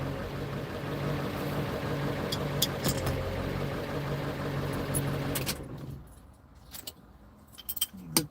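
An old truck engine runs at a steady idle, a low rumbling drone with a faint metallic jingle, cutting off about two-thirds through and leaving quiet rustling and small clicks.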